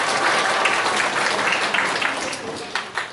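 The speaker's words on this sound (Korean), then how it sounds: "큰 박수 부탁드립니다." Audience applause fills a 2019 regional jobs panel forum at the Gumi Chamber of Commerce: dense, steady clapping from a large crowd that carries throughout and thins slightly toward the end.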